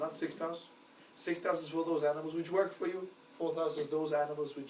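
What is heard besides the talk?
No everyday noise stands out behind the speech.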